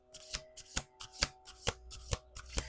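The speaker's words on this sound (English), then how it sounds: "Last shuffle." Tarot cards being shuffled on a table in a quiet room, eight or nine crisp riffling bursts in a quick, even rhythm, close and clear with no talking.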